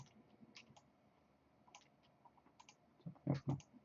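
Light mouse clicks while shift-selecting controllers in Maya animation software, scattered soft taps building to a few sharper clicks at the end, close and quiet with no talk.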